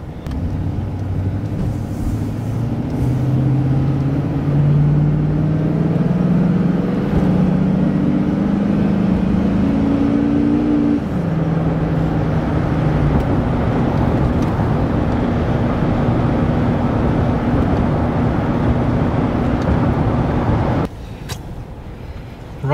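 A truck engine runs steadily during a test drive on a snowy farm after repairs, its pitch climbing as it accelerates and then settling into a constant cruising rumble, with a short drop in level near the end.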